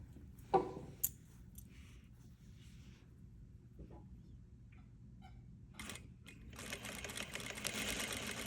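Domestic sewing machine stitching a top collar, a soft quick burst of stitching at the start, then quiet with faint handling, and a steadier, louder run of machine noise building toward the end.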